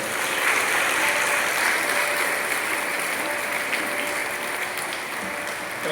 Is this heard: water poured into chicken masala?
no